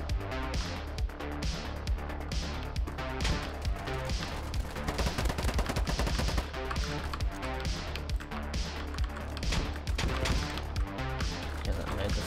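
Rapid, rhythmic gunshots rattle through a Polygon shooter match, fairly loud and near, with continuous firing layered over game music and ambience.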